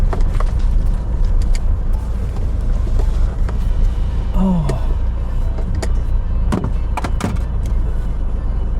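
A car moves from a dirt track onto a concrete road in rural Kanchanaburi, Thailand, with a steady rumble of tyres and engine throughout and several brief knocks and a short squeal midway.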